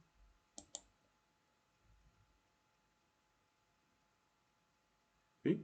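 Two quick mouse clicks close together near the start of a near-silent stretch, then a louder single click or thump at the end, with faint low rustling between.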